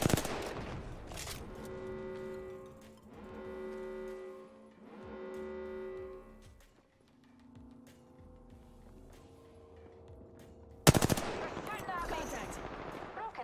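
Gunfire in a video game: sharp shots and bursts over droning engine-like tones and game effects, with a loud sudden blast near the end, fairly faint overall.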